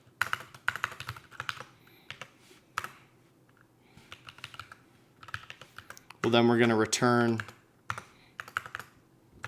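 Computer keyboard typing while coding a merge sort program, bursts of quick clicky keystrokes scattered through the clip, with a person talking over and between them.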